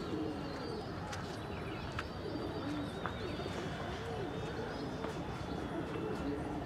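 Pigeons cooing repeatedly during a pigeon fight, soft rolling coos and a few chirps over a noisy outdoor background, with someone talking on and off.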